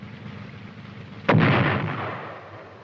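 An M551 Sheridan light tank fires a guided missile, one sharp loud blast on quiet ambient rumble followed by a long, gradually fading roar as the round leaves.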